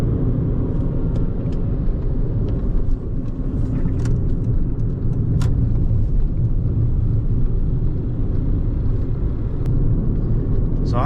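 Interior rumble of a hybrid car driving on a road, a steady low drone of tyres and engine with faint clicks, continuous and unchanging with no talk.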